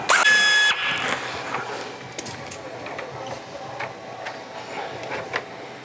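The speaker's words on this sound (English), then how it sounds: "And we're gonna crack this one loose too." A power tool bursts briefly with a whining, rattling rush to crack loose a bolt during a Pro XP silicone charge tube install. A duller mechanical hum and scattered clicks follow.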